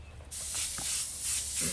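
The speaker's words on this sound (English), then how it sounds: "the closer you are to the tip here, the finer the spray it's going to be" Airbrush spraying paint onto a tiki head outdoors in a yard, a sudden steady hiss that starts, swells and dips briefly in short bursts, close and fairly loud.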